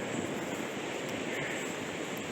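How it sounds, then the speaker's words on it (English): Ocean surf heard from beyond a dune at a coastal wildlife refuge, a constant, fairly faint wash of broadband noise with no distinct breaks or voices. "as we get further from the ocean, the sound of the surf is going to drop off"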